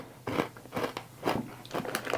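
Someone bites and chews Beaver Nuggets, a caramel corn snack from Buc-ee's. Several crisp, close crunches come in uneven bursts.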